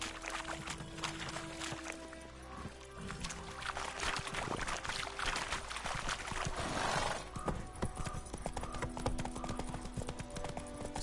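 A horse's hooves clip-clop steadily in The Witcher 3: Wild Hunt, a quick even rhythm running the whole time beneath a dense layer of game ambience and music.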